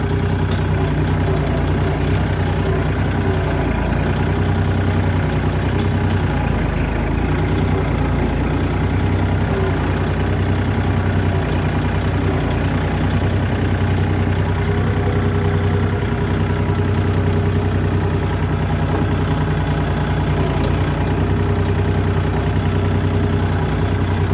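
A tractor engine runs continuously in a rural setting, a steady low droning rumble with constant loudness and no change in pace, heard alone without voices.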